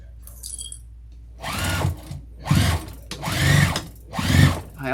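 A sewing machine stitches a vinyl tote bag in four separate bursts of close, whirring mechanical hum, with short pauses between runs.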